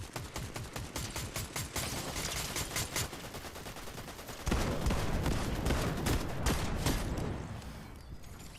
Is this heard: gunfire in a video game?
yes